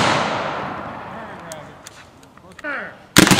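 A historical reenactment rifle volley fires near the end as one sharp, loud blast, preceded by a fading boom and quiet outdoor ambience with faint calls.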